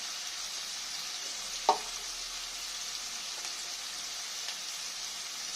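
Eggplant slices frying in hot oil in a pan give a steady, even sizzling hiss, with one sharp click partway through and no voices.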